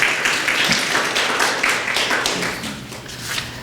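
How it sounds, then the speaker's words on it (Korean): A church congregation applauding to welcome a couple, a steady crowd of hands clapping in a dense wash of moderate loudness that fades slightly toward the end. "큰 박수로 환영하시겠습니다"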